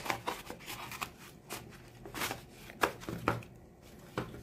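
Steady crunching snips of scissors biting into a thick cardboard egg carton, repeated quickly and close up, with a low hum underneath.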